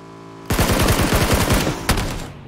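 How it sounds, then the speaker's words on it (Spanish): Gunfire in the battle royale game PUBG, a rapid automatic burst of about a dozen sharp, loud shots in quick succession, followed by one more crack a moment later. "Ah, ha disparado, tío."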